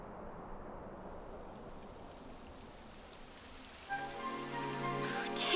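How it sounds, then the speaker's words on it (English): Rain falls in the video game Dragon Quest XI S as a soft, steady hiss, with music swelling in over it near the end. "It would have to go and start raining, wouldn't it?"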